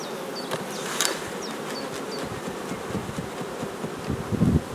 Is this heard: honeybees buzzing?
yes